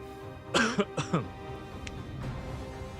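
A few short, harsh coughs and a throat clearing in quick succession, fairly close, then quiet background hum.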